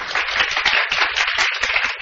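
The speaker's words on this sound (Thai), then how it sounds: "ขอเสียงปรบมือให้เอ็มสตาร์ หน่อยดีไหมคะ" A business network seminar audience applauds for the company, a continuous, even round of many hands clapping that runs loud throughout the short stretch.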